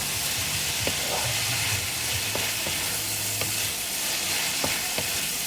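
Onions and curry leaves frying in a pan for chicken chukka give a steady, loud sizzle throughout, while a utensil scrapes and stirs them with several distinct clinks against the pan.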